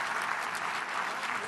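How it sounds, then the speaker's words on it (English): A short burst of conference keynote audience applause, many hands clapping together in a continuous, fairly quiet wash. "Let's give a big round warm of applause for Guy Kawasaki"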